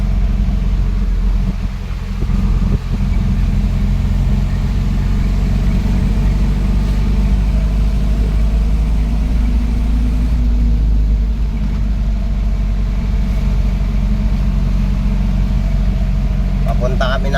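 A truck engine drones steadily at low pitch throughout while driving to a gravel crusher, a constant near rumble with little change in speed.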